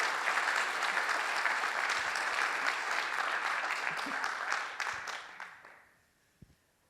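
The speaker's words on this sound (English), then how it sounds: "A round of applause for that." Audience applause at a distinguished alumni award event, a sustained round of clapping that thins out and fades to near silence in the final seconds.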